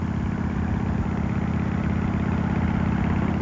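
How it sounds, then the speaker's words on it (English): Harley-Davidson motorcycle with a V-twin engine running, a steady loud low rumble with an even pulsing throb throughout, close and alone. "It's the true heart of any Harley, the V-twin engine."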